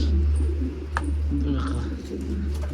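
Pigeons coo close by in a loft over a constant low hum, with a voice talking briefly.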